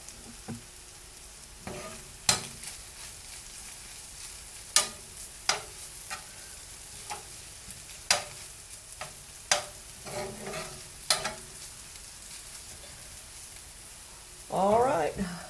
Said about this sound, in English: Corned beef is starting to cook.